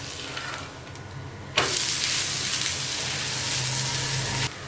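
Hiss of a coriander dosa on a hot pan jumps to a loud, steady sizzle as it is flipped, holding strong for a few seconds before dropping off; no one speaks.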